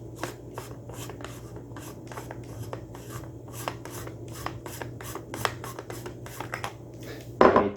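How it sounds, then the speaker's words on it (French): A toy lightsaber hilt being unscrewed at its end, giving a steady series of small rubbing, grinding clicks close up over a low constant hum, ending in a louder rattle. "Dévisser le bout,"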